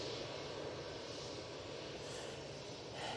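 An easyJet Airbus A319 jet airliner at Manchester Airport gives a steady, broad engine roar that holds at a fairly constant level for a few seconds, with no voices over it.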